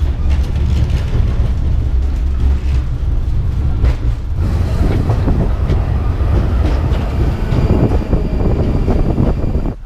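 A Moscow metro light-rail train with Rusich cars on the Butovskaya line rolls steadily onto an elevated track, with a constant loud rumble, wheel clatter and rushing air throughout.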